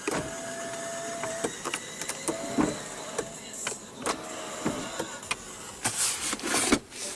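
The motor of a 2014 Lexus GS350 sunroof whirs in a few short, quiet runs inside the cabin, broken by clicks and button taps.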